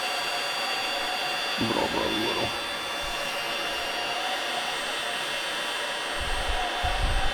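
Heat gun blowing steadily while heating a plastic boat locker, a constant close airy roar throughout, with a brief voice in the middle and a few low thumps near the end.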